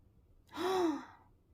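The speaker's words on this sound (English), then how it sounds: "It neighs." A single short horse neigh used as an animal sound for toddlers, rising then falling over about half a second, clear and alone against a quiet background.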